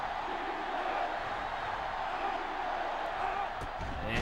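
Steady stadium crowd noise from NCAA Football 06, a college football video game, fills the scene with a continuous loud roar. A brief thumping impact arrives near the end.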